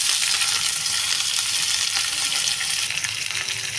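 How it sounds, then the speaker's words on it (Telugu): Sliced onions with curry leaves and green chillies frying in oil for a Telugu potato fry, a loud, continuous close-up sizzle and crackle with no talking. "పోపు వేగిన తర్వాత కరివేపాకు పచ్చిమిరపకాయలు వేసేసుకోండి ఇవి వేగిన తర్వాత ఉల్లిపాయలు వేసేసుకున్నాం"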